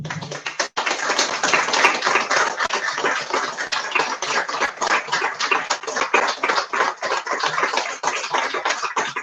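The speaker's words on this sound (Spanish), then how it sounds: "Un aplauso para Héctor Carreto." Applause from the audience at a tribute to poet Héctor Carreto in a bookstore, with steady dense clapping that sounds close and continuous and runs from start to finish.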